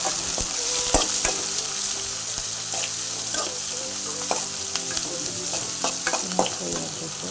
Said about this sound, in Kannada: ಈಗ ಚೆನ್ನಾಗಿ ಫ್ರೈ ಆಗಬೇಕು.